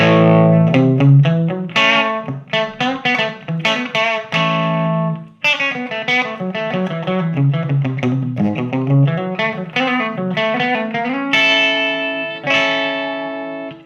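Electric guitar through an overdriven Orange Terror Stamp tube amp head and tube pedal, gritty and crunchy with a little breakup, playing a continuous run of picked notes and chords, loud and close.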